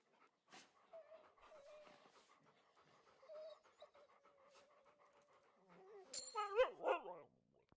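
Sled dogs pant steadily in the video game The Pale Beyond, with soft whimpers and yips over the panting and a louder burst of dog vocalising near the end.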